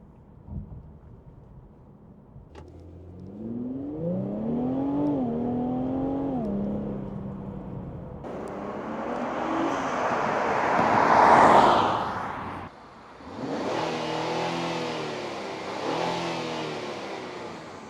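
An Infiniti Q50 Red Sport AWD engine revs hard under full throttle with little turbo sound, pitch sweeping upward through the gears with a roaring peak, a brief dip, then climbing again.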